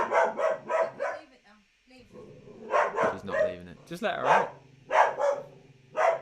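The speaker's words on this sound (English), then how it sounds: "Let's let her bark at the neighbours." A dog barks indoors in a front room in repeated bursts of two or three sharp barks with short pauses between them. The barking sounds close and loud, and people talk over and between the barks.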